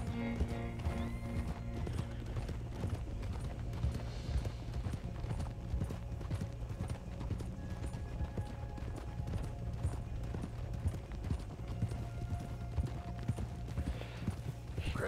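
In the Red Dead Redemption 2 game, a horse at a manor stable clip-clops in a steady rhythm of hooves throughout, with a whinny among them, over a constant background of ambient sound.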